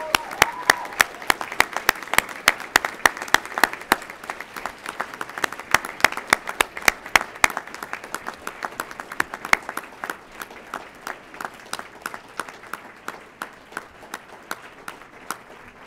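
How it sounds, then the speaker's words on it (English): A graduation ceremony audience applauds families and friends, with steady, crisp clapping from a large crowd that continues evenly for over fifteen seconds without talk. "you show them your appreciation by giving them your applause."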